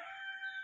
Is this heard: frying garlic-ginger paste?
no